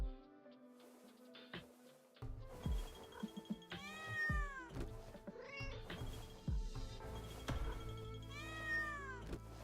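Game cats meow repeatedly in a farming and homestead video game, several rising and falling mewing calls spread across the clip over soft background game music and light clicks.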